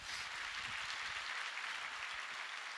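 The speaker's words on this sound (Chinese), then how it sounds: "我们给他们一个掌声好不好？" Applause from a seated audience at an Atomy Star Master promotion event, a dense steady wash of clapping that holds at an even level from start to finish, with no voices standing out above it.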